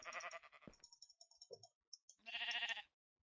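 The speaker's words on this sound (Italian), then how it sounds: "Pecora." Sheep bleating in Minecraft, several short quavering bleats in quick succession followed after a pause by one longer, louder bleat, heard close and without talk.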